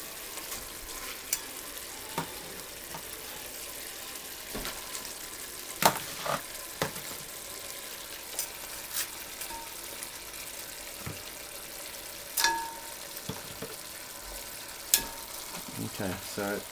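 Lamb potjiekos meat sizzles steadily in a pot on a Cobb BBQ, a continuous frying hiss broken by occasional sharper crackles and spits throughout.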